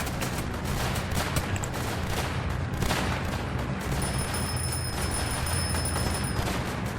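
Video game Northend Tower Defense: bomb explosions give rapid bursts of crackling blasts, dense and continuous over game noise, with a thin high electronic tone near the end.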